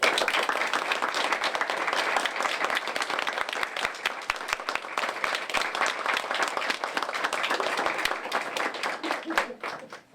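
Wedding guests at a French town hall ceremony applaud the newlyweds in a steady, dense round of clapping that fades out near the end.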